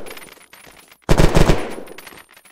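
PDW with a 250-round drum magazine in the Unturned video game, firing a loud sustained automatic burst that starts abruptly after a brief quieter stretch and rattles on to the end.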